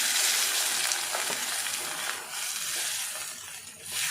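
Brinjal curry with chilli, ginger and coriander masala fries in a pan, giving a loud continuous sizzle with soft stirring scrapes that swell and ease.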